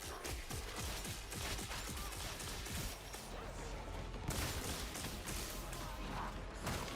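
Constant rapid gunfire from a weapon in Warhammer 40,000: Darktide, a dense unbroken stream of shots with clanking mechanical noise, steady and fairly close, faint talk mixed in.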